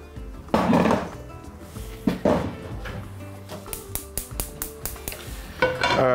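Onions being cut with a knife on a board in a home kitchen for a beef dish with garlic sauce, a few heavy cuts followed by a quick run of crisp, evenly spaced chops, close up with no talk.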